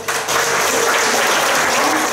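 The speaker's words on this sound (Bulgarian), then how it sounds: "Аплодисменти!" An audience at a Teacher of the Year award ceremony in Kazanlak, Bulgaria bursts into loud, continuous applause that rises quickly and holds as a dense, close wall of clapping.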